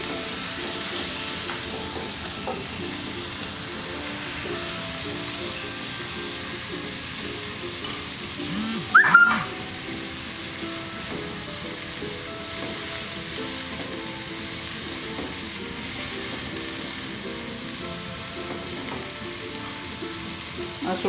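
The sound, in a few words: stirring beef stew frying in a pan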